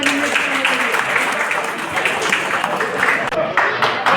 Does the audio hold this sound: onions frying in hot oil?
no